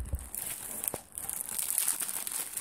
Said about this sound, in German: wir werden jetzt einfach mal anfangen mit dem Auspacken